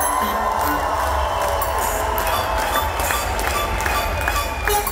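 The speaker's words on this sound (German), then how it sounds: "Applaus für Emmy!" Festival crowd at a Spring Break music event, a dense, loud wash of applause and cheering filling the whole stretch with steady roar and scattered shouts.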